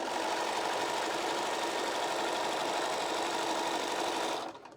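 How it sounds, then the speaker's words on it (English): A sewing machine runs at a constant fast buzz while stitching the last seam of a beginner quilt block, close and loud, then stops just before the end. "we're going to stitch this last seam and our block will be done"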